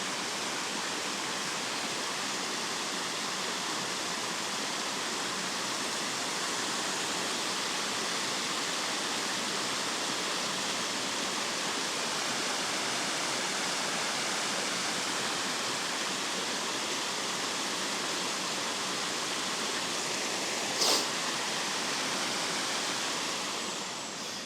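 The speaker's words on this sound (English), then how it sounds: "who'd have thought there'd be a waterfall in Halifax?" A waterfall at Halifax roars as a steady, dense wash of falling water, constant and fairly close, with no voices over it.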